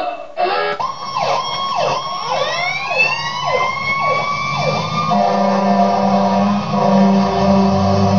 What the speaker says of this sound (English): Apologies for all the sirens